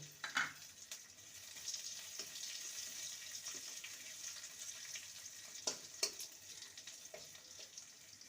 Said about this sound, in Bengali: রসুন কুচি রসুনটাকে ভেজে নেব